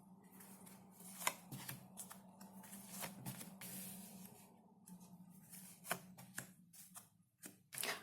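Tarot cards are shuffled and riffled close by, with soft sliding and sharp snapping flicks coming in irregular bursts, fairly quiet.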